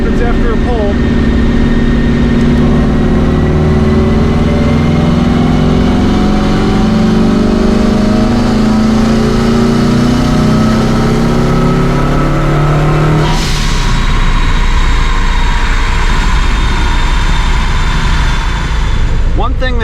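A car fitted with a swapped JDM Subaru EJ20X engine accelerates hard through a long pull, the engine note rising steadily and loudly before a sharp shift-like break, then carrying on at a rougher, busier pitch.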